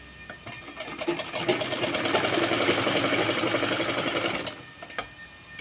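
A sewing machine stitches cloth in a steady, fast mechanical rhythm that runs for a few seconds, then stops. Scattered clicks come just before and after the run.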